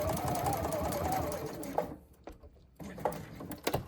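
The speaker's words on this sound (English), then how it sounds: "Sewing up to that mark." A sewing machine runs steadily, stitching a seam through thick fabric while fitting a zip, then stops and starts again in shorter close bursts.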